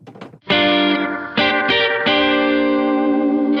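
Electric guitar through distortion and chorus effects plays a chord melody with a full strummed chord on each melody note, four ringing struck chords in close succession after a short muted lead-in, loud and sustained.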